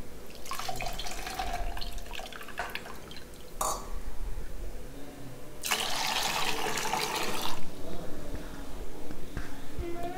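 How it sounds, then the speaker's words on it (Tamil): Tamarind water being poured into a pot for a bachelor-style fish curry, with trickling and splashing liquid that swells into louder bursts of pouring, set against a quiet kitchen background. "அந்த புளியிலேயே தண்ணி சேர்த்து கலந்து ஊற்றினீங்கன்னா நல்லா குழம்புக்கு திக்னஸ் கிடைக்கும்."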